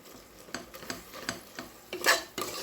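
Tomato masala gravy, meant for a fish biryani, is stirred in a pan, giving soft scraping and tapping strokes at an irregular rhythm over a faint sizzle, with one louder clatter near the end and no talking.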